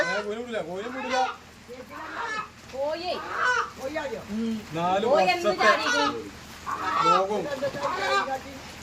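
A hen freed after four years trapped in a well lets out loud, close clucks and squawking calls in repeated bursts, separated by short pauses.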